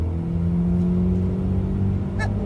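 A tuned ex-police car launching from standstill in a timed 0 to 60 mph run, a loud steady engine drone building under acceleration, heard close from inside the car.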